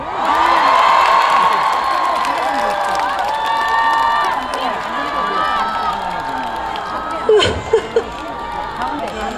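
Crowd cheering and shouting at a citron festival concert in Goheung, loud and close, with excited voices and whoops rising and falling throughout and a sharp burst of noise near the end.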